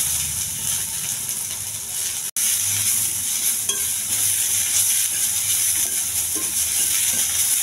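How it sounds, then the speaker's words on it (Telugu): Cumin, curry leaves, onions and green chillies fry in oil in a pan, a loud, steady hiss and crackle with light stirring scrapes, close and uninterrupted apart from one brief cut. "కొద్దిగా వరగా వేస్తానండి."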